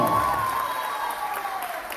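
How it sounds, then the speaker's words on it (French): Audience applause at a school graduation ceremony, a dense wash of clapping from a crowd that fades gradually over the two seconds. "Vous applaudissez plus fort."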